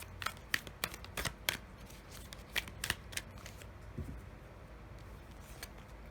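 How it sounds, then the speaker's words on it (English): Astrology cards are shuffled and drawn in a quiet room, giving a series of sharp, close riffling snaps and flicks in irregular bursts, tapering to a few soft slides near the end. "we'll draw 2 astrology cards"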